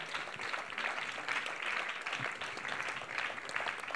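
A church congregation applauds in praise of the Lord, a dense, steady wash of many hands clapping at close range for the full four seconds, with no voices standing out.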